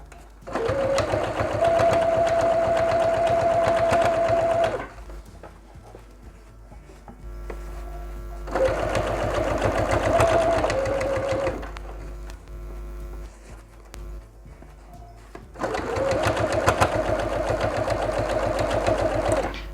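A sewing machine stitches fabric for homemade house slippers in three loud steady runs of about five seconds each, separated by quieter pauses with faint handling noise.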